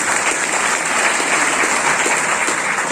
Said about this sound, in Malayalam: അതിനുവേണ്ടി നല്ലൊരു കയ്യടി മറ്റുള്ളവർക്കൊന്ന് കൊടുക്കണം